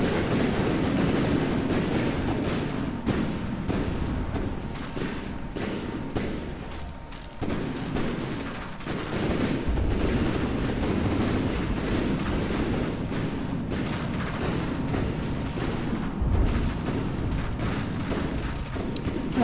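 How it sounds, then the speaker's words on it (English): Machine guns firing in the naval combat game From The Depths, a dense, continuous barrage of gunfire and booms close in, steady throughout with a few louder bursts. "the machine guns do cut in to put a nice bit of fire in there"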